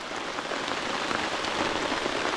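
Rain falls at a campsite in a steady, dense hiss of drops striking nearby surfaces, continuous and fairly loud with no voices over it.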